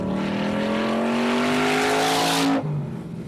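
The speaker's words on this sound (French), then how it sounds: "Mais si la puissance fournie par ces moteurs est impressionnante, le bruit l'est aussi." Chevrolet Corvette Stingray American muscle car engine roaring loudly and climbing in pitch as it accelerates, then cutting off abruptly near the end.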